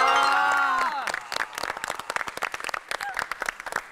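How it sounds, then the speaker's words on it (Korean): Applause and scattered clapping for South Korean national team athletes on a variety show set, sharp uneven claps rising after a sustained shout, with voices over them. "우리 선수단 여러분께 박수 한번 주세요"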